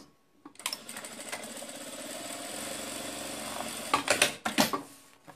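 A sewing machine stitching backpack fabric runs in a steady whirring drone for several seconds, then breaks into a few louder bursts near the end; close and fairly quiet, with no talk.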